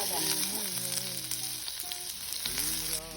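Onions frying in oil in a clay pot for tomato chutney, with garlic already added, a steady close sizzle running throughout under tonal background music, with no voices.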